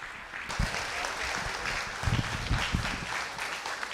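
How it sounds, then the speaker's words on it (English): Audience applause at a junior beef expo cattle show, a crowd clapping steadily for a few seconds with some low thumps and a faint voice underneath. "Give her a nice round of applause."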